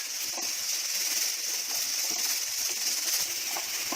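Onions and green chili paste fry in hot oil for Lahori chickpea curry, giving a steady, even sizzle that hisses without pause from start to end, close and fairly loud, with no talking.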